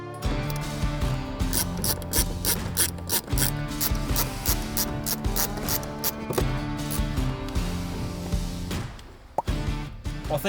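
A hand ratchet clicks rapidly in bursts while tightening bolts on the top grille of a RAM 2500, loud and close, with short pauses between runs of dense metallic ticking.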